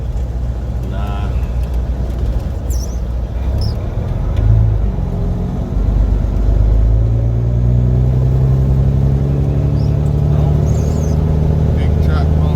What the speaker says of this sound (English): Big truck pulling in.